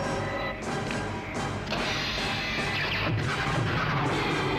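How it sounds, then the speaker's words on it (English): A super laser firing blast from a Star Wars interactive VHS board game hits as a series of crashing, booming impacts with rumbling, explosive bursts, fairly loud and sustained, with no talk over it. "Fire the super laser."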